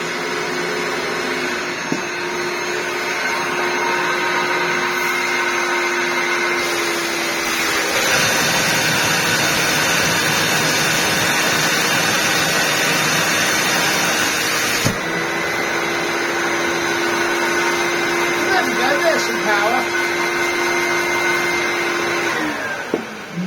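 A broken, clogged 1998 Dyson DC01 vacuum cleaner runs with a loud, steady motor whine and airy roar. Its pitch shifts and surges as the airflow changes, and no voices are heard.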